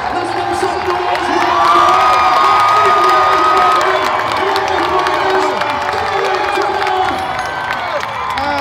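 A crowd at a record-breaking attempt cheers and shouts continuously, with children's voices, whoops and some clapping in a loud, sustained roar.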